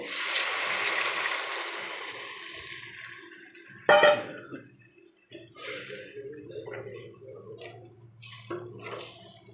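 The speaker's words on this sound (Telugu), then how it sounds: "ఇప్పుడు ముందుగా మనం తీసుకున్న చింతపండు పులుసుని పోస్తున్నానండి" Tamarind extract is poured into a simmering fish curry, starting with a wet, splashy pour, then a sharp utensil clatter and softer bubbling and stirring sounds close by.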